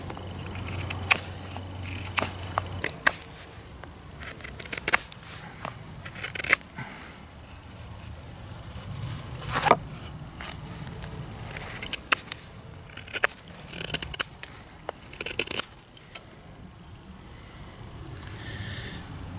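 A knife carving a flat chisel point on the end of a wooden support stick for a figure-four deadfall trap, heard as a series of irregular close scraping and shaving strokes against quiet background.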